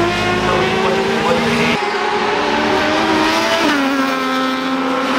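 Racing motorcycles at the Aberdare Park road races roar past at high revs, with loud sustained engine whine and gear-change pitch drops, continuous and close.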